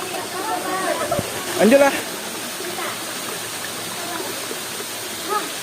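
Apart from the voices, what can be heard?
waterfall Guguk Parahyangan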